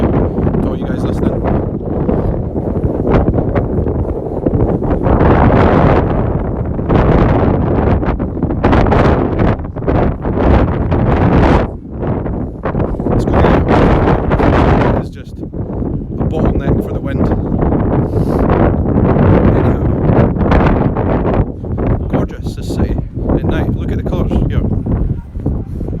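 Heavy wind batters the microphone near Edinburgh Castle on the Royal Mile, a loud, continuous roaring rumble with uneven gusts and brief lulls, masking any voices.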